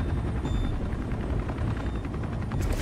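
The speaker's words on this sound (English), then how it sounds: "It's a helicopter." In Rainbow Six Siege, a helicopter's rotors thump in a loud, steady low drone that fills the scene with rumbling engine noise throughout.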